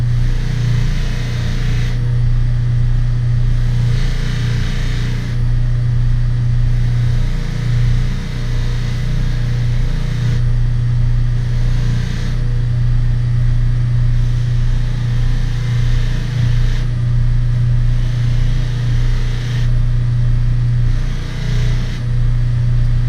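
A buffing wheel with polishing compound runs against solid brass door hardware, producing a loud, steady motor drone that swells and dips slightly in a slow repeating pattern as the piece is worked, with no voices.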